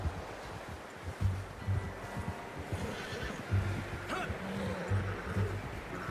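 In Red Dead Redemption 2, a horse whinnies and snorts faintly outdoors amid rustling and a low ambient wash, with soft hoof-like thuds and movement noises scattered through several seconds.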